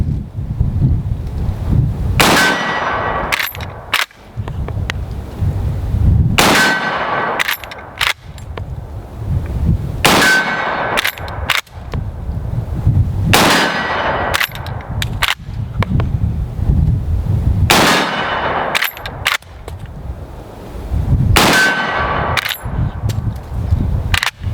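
Marlin 336 lever-action 30-30 rifle firing at steel targets outdoors, seven loud spaced shots several seconds apart, each with a sharp crack and a brief ringing tone, over wind rumble.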